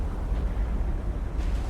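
Magazine explosion of a Mutsuki-class destroyer in the naval combat game War on the Sea: a deep, sustained rumbling boom that fills the whole stretch at steady loudness, with no voices over it.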